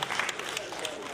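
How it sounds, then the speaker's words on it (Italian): A brief burst of crowd clapping for Domenico at an Italian magic show, dense and steady, with a voice speaking over it. "Un applauso a Domenico"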